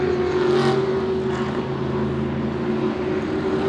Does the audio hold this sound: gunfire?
no